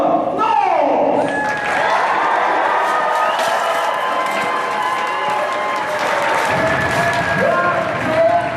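A renaissance fair crowd cheers and applauds for a jousting champion, loud and close, with whoops, shouts and a booming announcer voice over the clapping and a few thuds.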